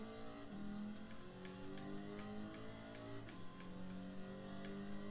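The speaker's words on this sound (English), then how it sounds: "I love the way this engine sounds" Car engine in the racing video game Gran Turismo Sport, revving and shifting through gears with rising and falling pitch, steady and moderately loud, no talk.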